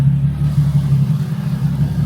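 A Nissan 350Z under rebuild, missing its bumper, idles with a steady low rumbling drone, loud and close with no other sounds.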